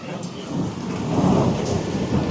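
Rain falls steadily at a resort in Wayanad, with a low rumble of thunder rolling underneath. The downpour is dense and continuous and sounds fairly near, and no one speaks.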